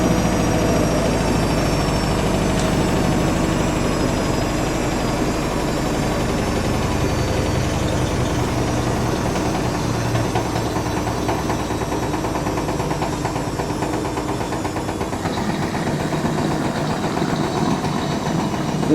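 A Siemens IQ300 WD14H320GB washer dryer on a Cottons 60ºC programme runs its spin cycle, a loud, steady, continuous whirring drone with no pauses and no one talking.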